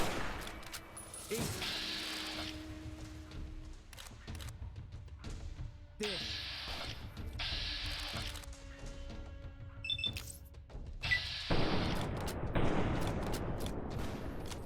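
Gunfire bursts in a fight in the video game Fallout: New Vegas, several loud shots and impacts spaced across the clip with game effects between them.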